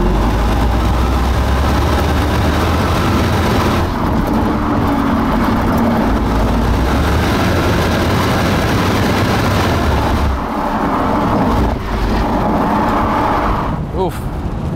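A Lexus SC430 engine accelerates at full throttle, a loud, sustained rumbling drone heard from inside the car, with brief dips and a voice at times.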